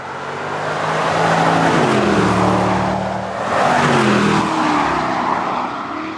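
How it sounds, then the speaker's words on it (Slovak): A 2021 Land Rover Defender V8 Carpathian rumbles through its exhaust on narrow mountain serpentine roads, a loud, deep, continuous engine roar that swells, dips briefly, then rises again. "Krásne hrmotavý je ten 8-válec v kombinácii s výfukom."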